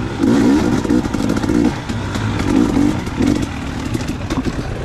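Dirt bike engine racing in a motocross grand prix at Buckhorn, running loud and close with repeated revving surges and throttle changes throughout.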